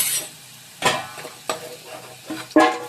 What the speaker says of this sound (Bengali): আলুটা সুন্দর করে ভেজে নিচ্ছি লাল লাল করে ভেজে নেব